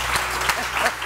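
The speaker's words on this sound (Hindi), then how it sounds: "सबसे पहले तो बहुत सारी तालियाँ मैं ज़ोरदार बरसा देती हूँ" Audience applause at a live stage show, a dense burst of clapping lasting about a second, loud and close with no voices over it.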